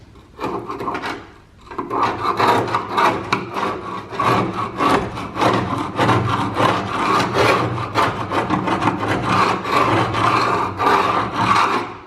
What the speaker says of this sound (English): you're just scraping her away with Milwaukee